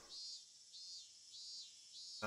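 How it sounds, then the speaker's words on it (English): Steady high-pitched cicada drone from a video game (Higurashi When They Cry), pulsing in slow swells, alone with no voices; a brief louder noise cuts in at the very end. "Lethargy, induced by the voices of the cicadas."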